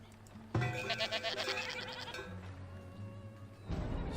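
A goat at a goat farm in the game Farthest Frontier gives a loud, wavering bleat lasting nearly two seconds, followed by quieter background sound and a brief later burst.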